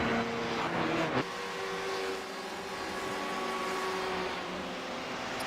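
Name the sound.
race car leaving the pits after a scheduled stop at Road Atlanta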